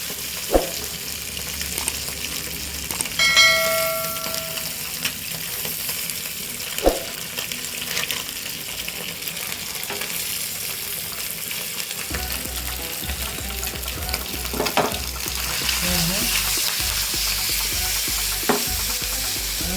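Oil sizzles and crackles steadily as small masala-coated fish fry in a pan with curry leaves, with occasional clinks and stirring noises up close.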